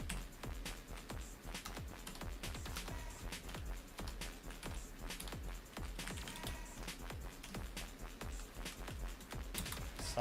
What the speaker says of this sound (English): I guess I'm typing it.